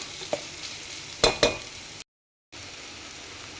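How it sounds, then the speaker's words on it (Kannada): Ingredients frying in oil in a pan for tili saaru rasam: a soft continuous sizzle with a few sharp stirring clicks, a brief dropout of total silence, then the quiet sizzle resumes. "ಇದನ್ನು ಆಯಿಲಲ್ಲಿ ಸ್ವಲ್ಪ ಫ್ರೈ ಮಾಡ್ಕೊಳ್ಳಿ ಈ ರೀತಿಯಾಗಿ"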